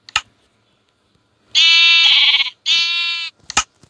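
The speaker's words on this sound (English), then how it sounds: "I'm just going to spawn some random mobs. Sheep. Let's do it with sheep today" Sheep bleating in the Minecraft video game, two loud, clear sustained bleats back to back, preceded and followed by short sharp clicks, with near silence before.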